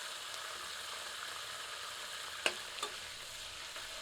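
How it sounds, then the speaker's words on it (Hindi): Whole spices dropped into hot oil, a steady gentle sizzle and crackle with a couple of sharp pops, close and fairly quiet. "गर्म तेल में अब सारे साबुत मसाले सम्मिलित करते हैं।"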